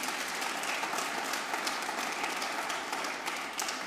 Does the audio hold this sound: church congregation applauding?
yes